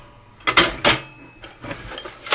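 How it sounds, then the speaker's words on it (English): A vintage toy cash register opens with a couple of sharp mechanical clacks and a ringing clatter, followed by softer rattling and a final click, close and fairly loud with no talk. "toy cash register."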